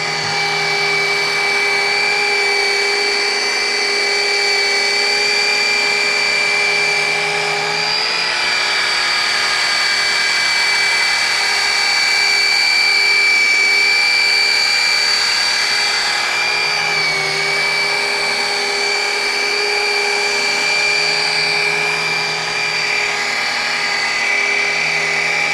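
A rotary polisher runs steadily on car paint during paint enhancement, giving a continuous high whine with a slight dip in pitch partway through as the machine is loaded.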